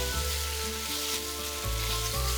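Beef searing for beef bourguignon crackles and sizzles steadily in a hot pan, close and continuous for the whole stretch with no voices.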